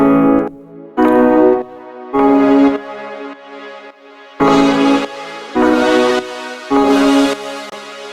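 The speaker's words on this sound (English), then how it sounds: "this is more like an organ plugin, but it sounds like a pluck" Lounge Lizard organ plugin notes sound like a pluck, short bright synth chords repeating in a steady rhythmic pattern with silent gaps between, close and clean with no voices.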